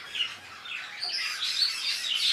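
Flock of rainbow budgerigars chirping, a busy overlapping chatter of high twittering calls, continuous and moderately near, with no voices.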